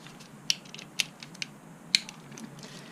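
A ratchet clicks in short, sharp bursts while bolts are worked out of the engine case guard on a Triumph Street Triple motorcycle, with a few distinct metallic ticks spaced apart over quiet background.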